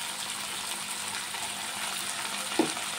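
Ginger garlic paste fries with salt in a pan, giving a steady, close hiss and sizzle throughout, with a single small clink just before the end.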